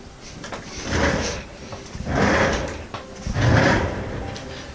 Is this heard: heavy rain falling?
no